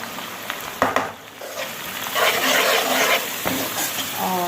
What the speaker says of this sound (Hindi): इन सबको हमने बहुत अच्छी तरीके से भून लेना है